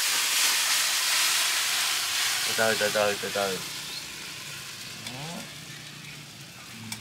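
A shrimp hotpot with sour bần fruit sizzles and hisses steadily over an open fire, a close, continuous frying sound, while people speak briefly over it.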